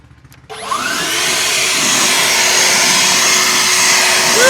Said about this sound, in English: All right, here goes the leaf blower.